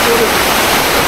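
Mt. Plaisir waterfall in Grenada, water pouring down in a loud, steady broadband roar that fills the whole moment with no break.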